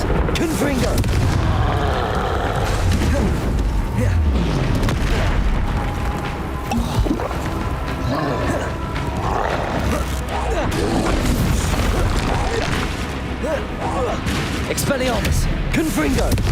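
Constant combat in Hogwarts Legacy: spells are cast and fiery blasts explode against a troll, with repeated booms and crackling bursts over a dense, loud rumble that never lets up.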